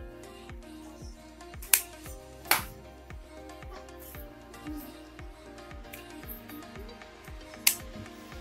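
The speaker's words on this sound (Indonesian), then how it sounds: "Kita gunting-gunting dulu ini cabang-cabangnya." Sharp snips of scissors cutting through small bonsai branches, a few crisp clips spaced apart over a quiet background with faint ticking.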